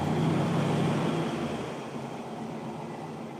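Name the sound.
1967 Chevrolet Corvette Stingray engine starting up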